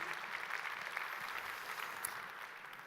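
An audience applauds steadily at a startup awards ceremony in the Grand Rex theatre, a dense, even wash of clapping that holds at a moderate level throughout without pause.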